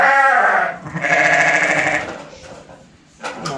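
A lamb being ear tagged on a farm bleats loudly and close up, two long wavering cries followed by a shorter bleat.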